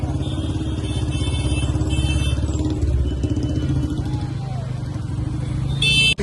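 A motorcycle engine runs steadily at close range outside Eden Gardens on a crowded cricket match day, with a low throbbing rumble, a brief rattle and high-pitched ambient tones, ending in a short clatter.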